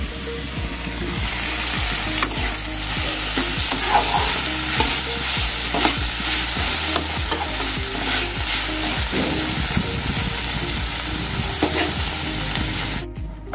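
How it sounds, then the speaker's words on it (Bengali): Vegetables for fried rice stir-fry in a hot pan, a continuous loud sizzle broken by rhythmic scraping strokes of a spatula, close up and with no voices. "এখানে সব ভেজিস গুলো ভাজা হচ্ছে"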